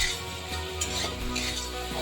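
Kabuli chana and potatoes fry in a pan in a vegetarian paneer dish, giving a steady, close sizzle with light stirring scrapes throughout the short stretch, no voices.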